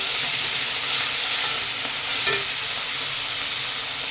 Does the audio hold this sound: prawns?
yes